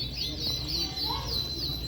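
Color canaries sing at a bird show, a sustained run of bright repeated chirps and trills that carries on steadily throughout.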